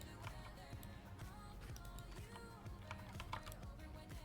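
Rapid clicking keystrokes on a computer keyboard, quiet and continuous, with uneven bursts of typing and faint background sound.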